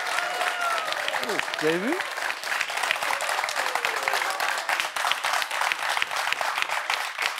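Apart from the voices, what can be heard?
studio audience applause on a French quiz show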